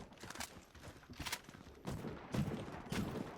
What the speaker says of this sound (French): il tire à travers le mur, ça passe pas à travers ce mur là